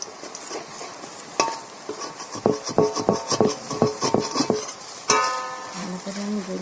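Cabbage fritters fry in hot oil while being turned and moved in the pan, giving scraping and tapping knocks over a steady sizzle, close and moderately loud.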